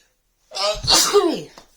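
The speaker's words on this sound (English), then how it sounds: "There's a sneeze coming." A single close, loud sneeze, with a quick breathy intake building into a sharp burst.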